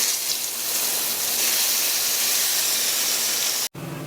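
Hot tempering poured into spicy onion chutney gives a loud, steady, close hissing sizzle that runs for several seconds and then cuts off abruptly, with no talk.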